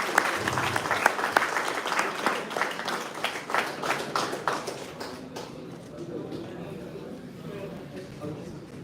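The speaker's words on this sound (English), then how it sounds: "Big claps." A hackathon audience claps for the prize winners, with a burst of uneven applause that fades out after about five seconds, leaving quiet room tone.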